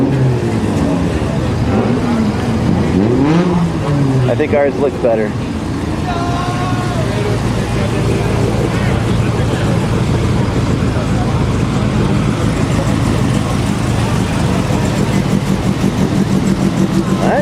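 A derby car engine rumbles and revs at a 24 Hours of Lemons race, a steady mid-pitched drone running under close conversation and crowd noise throughout.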